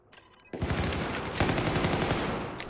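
Sustained automatic gunfire from an L85 rifle in Battlefield 4 on the Operation Locker map, a quiet lead-in giving way to a loud, continuous rattling burst with dense rapid shots running to the end.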